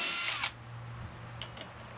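Impact wrench tightening the sump cover bolts on a Kohler Courage engine from a Craftsman LT2000 lawn tractor, one short loud buzzing burst near the start, then a low steady hum with faint clicks.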